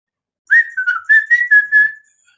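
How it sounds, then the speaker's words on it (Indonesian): A person whistles a short, wavering tune alone, several connected phrases sliding up and down at close range with no talk. "Siapa yang biasa siul-siul unyil-unyil itu?"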